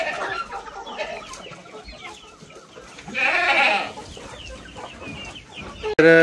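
Chickens cluck and squawk around a rainy farmyard where goats are also kept, a busy run of clucks peaking in a louder flurry midway, capped by a sudden sharp noise at the end.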